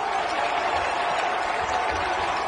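A basketball home crowd roars and cheers in a steady, dense wash of noise, loud and continuous throughout.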